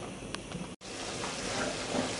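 Traditional pork goulash with peppers, pickles and tomato concentrate simmers in a pot, giving a faint, steady bubbling sizzle that breaks briefly once, likely as the lid goes on.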